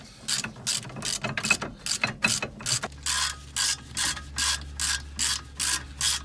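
A bolt fitted with a new spring washer is ratcheted into the brake caliper carrier of a barn-find Austin Maestro, giving close, rhythmic mechanical clicking strokes, rapid at first and then slower and more even.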